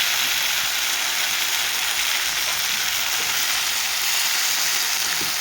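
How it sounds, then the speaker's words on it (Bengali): Cauliflower and mixed vegetables fry in a pan for a Bengali fish curry, giving a continuous, even, close hiss of sizzling oil with no pauses. "5 মিনিট রাখার পরে আমাদের সবজিটা ফ্রাই হয়ে গেছে"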